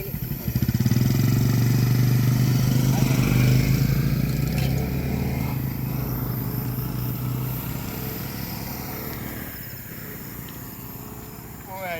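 A motorcycle engine idles and runs nearby with a steady low hum, loudest at first and slowly fading. Insects chirp in the background.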